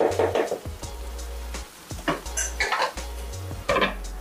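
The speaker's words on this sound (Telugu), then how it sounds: "ఇంకొకసారి మూత పెట్టేసుకుందామండి" A metal lid goes onto a cooking pot of Andhra-style tomato pachadi with several clanks and scrapes, close and fairly loud, interspersed with brief quieter pauses.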